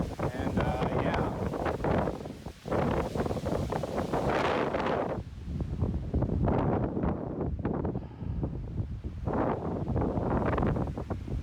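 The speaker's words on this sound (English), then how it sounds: "There's a lot of wind, and yeah." Strong gusty wind roars over the microphone on a mountain trail near Canmore in the Rockies, a steady loud rumble running the whole time while a hiker talks intermittently.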